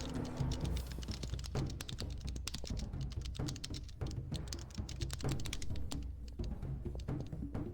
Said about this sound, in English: I think I can hear you typing.